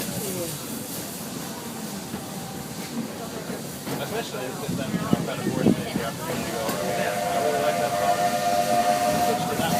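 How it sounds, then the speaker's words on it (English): A steam train's whistle sounds steadily over its rumbling, hissing running at Disneyland's Fantasyland station, growing more prominent toward the end. "There are some who say that this steam train is a little old-fashioned"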